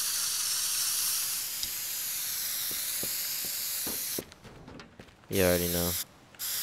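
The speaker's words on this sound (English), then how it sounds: "Spray can." Spray can hissing in the video game Teardown, a long steady airy spray with faint taps beneath, then a brief spoken remark and a short tonal burst near the end.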